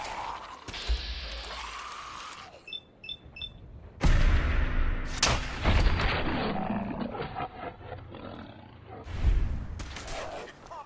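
Gunfire in the Fallout 4 video game: sharp, loud shots and impacts erupt in scattered bursts amid roaring creature noise and game effects, with brief chirps and ringing tones between.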